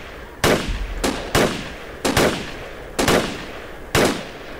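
Heavy gunfire from an infantry battle in the military shooter Project Reality: five or six loud, sharp bursts land at roughly regular intervals over a steady background of distant battle noise, with no voices.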